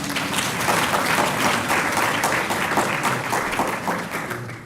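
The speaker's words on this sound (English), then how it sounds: "I would like us to clap hands for him." A large audience clapping at a university science faculty public lecture, loud continuous applause that stays full and even throughout.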